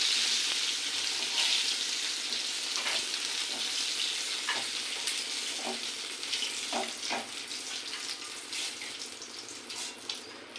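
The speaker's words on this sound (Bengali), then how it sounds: "চিংড়ি মাছটা ভাজি হয়ে গেছে, চিংড়ি মাছটাকে তুলে নেব।" Prawns sizzle in a pan on a lowered gas flame, a continuous close hiss broken by scattered pops and crackles, with no one speaking.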